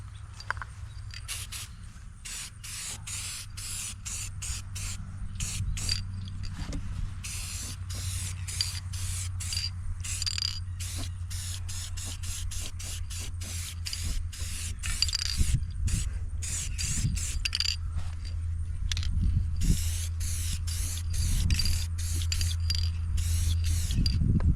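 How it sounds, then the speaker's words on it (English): Krylon red rust barrier paint sprayed from an aerosol can onto a Yerf Dog go-kart, a steady hiss broken into many short and long bursts, fairly close and alone over a low background hum. "I've got some Krylon red rust barrier. I'll throw that on there"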